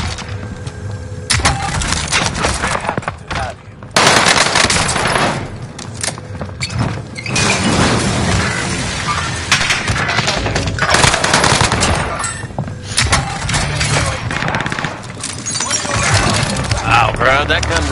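Dense, loud Call of Duty gunfire crackles almost without pause, with rapid automatic bursts and sharp impacts, while players talk over it.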